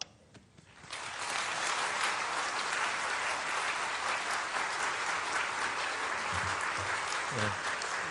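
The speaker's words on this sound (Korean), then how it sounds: "목사님 나오실 때 우리 큰 박수로 환영하겠습니다" A Korean church congregation bursts into applause welcoming the pastor at a revival meeting, starting after a brief quiet moment and swelling into broad, sustained clapping that fills the hall.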